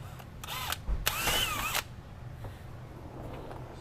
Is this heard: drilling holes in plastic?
yes